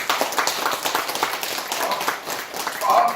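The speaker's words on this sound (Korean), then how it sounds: "박수 한번 해보지 우리." Audience clapping during a religious sermon, a close, fairly loud run of many hands applauding with a voice faintly mixed in toward the end.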